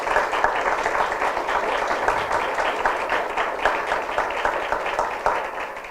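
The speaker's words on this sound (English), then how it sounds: "So if you can greet them with a warm applause." Warm applause from a conference audience greeting the panelists at a discussion on the Adriatic blue economy, steady dense clapping filling the room for several seconds before tapering slightly.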